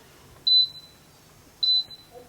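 Two clear, high electronic beeps about a second apart from button presses on an electric fireplace control panel's timer, crisp and close in a quiet room.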